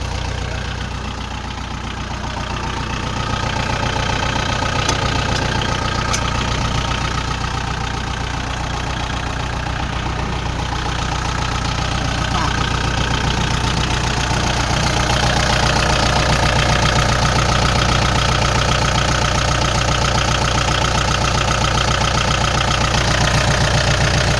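A Kubota L4708SP tractor engine idles steadily and loudly up close, its low diesel rumble and knocking pulse holding even throughout with no talk over it.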